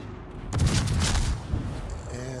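Battleship main guns fire in World of Warships, a heavy booming salvo that swells loud and rumbling for about a second, then trails off into lower mechanical hum.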